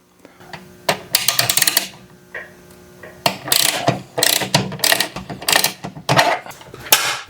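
A ratchet wrench loosens bolts on the side of a Craftsman garage door opener, its rapid clicking coming in several close bursts with short pauses between them, loud and near.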